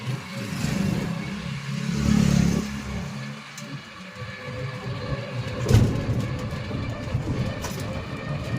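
Steady, loud rumble of riding in a toto, an electric rickshaw, on a long road during a Bengali New Year temple trip, with rattling, road noise and a sharp jolt partway.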